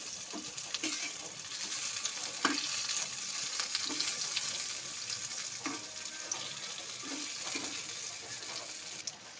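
Colocasia leaf and lentil fritters sizzle steadily in hot oil, with soft knocks recurring every second or so from the pan, and no talking.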